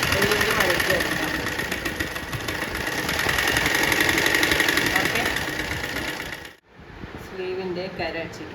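A sewing machine stitches a one-inch folded hem on a zipless nightdress in a steady mechanical whir that runs for several seconds, breaks off briefly, then starts up again.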